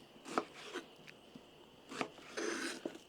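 A knife slices the ends off an onion on a cutting board, two short sets of crisp cuts a moment apart, close and fairly quiet with no one talking.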